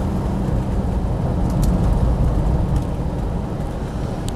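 Rover P5B driving with its Borg-Warner BW35 three-speed automatic gearbox, a steady low engine and road rumble with broadband wind noise, fairly loud and continuous, with a few faint clicks.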